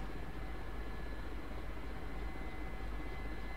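Helicopter flying in the DCS flight simulator game, a steady droning engine and rotor hum that stays constant and moderately loud with no talking.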